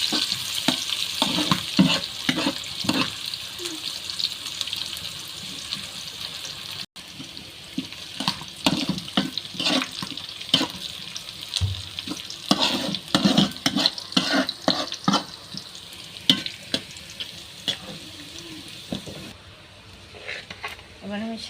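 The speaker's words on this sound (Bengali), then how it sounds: "দিব রসুন, এবার এটা ভেজে নিব।" Garlic and dried chillies sizzle in a pan while being stirred for a Bengali helencha greens dish, with steady frying crackle, repeated scraping strokes of the spoon and occasional clinks close by.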